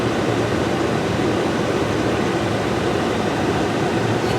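Inside a Ford Explorer, the heater fan blows at full force, a loud steady broadband whoosh of air that never changes, with no voices.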